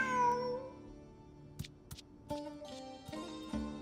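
Cat meowing in the video game Genshin Impact: a clear meow at the start, then several short chirps and mews scattered over quiet background music.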